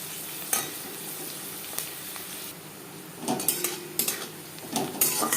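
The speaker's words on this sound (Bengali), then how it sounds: "পেঁয়াজ লালচে করে ভাজা হয়ে গেছে" Onions fry in a pan beside slit green chillies under a steady sizzle, while a spatula repeatedly scrapes and knocks against the metal. The stirring grows busier toward the end.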